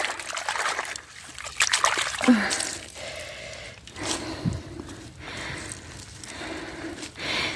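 Water trickles and splashes in uneven bursts as muddy strawberry seedlings are washed outdoors in cold water, with soft handling noises between the splashes.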